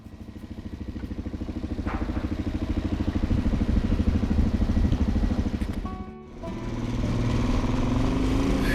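Motorcycle riding along a road in Peru, its engine droning steadily and loud with a rhythmic mid-range pulse, briefly dipping near the end before resuming under wind and road noise.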